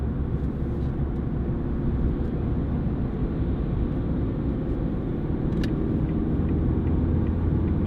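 Ford Fiesta 1.4 TDCi three-door panel van on the move, a constant low diesel and road rumble heard from inside the cab with faint ticks and knocks, no voices.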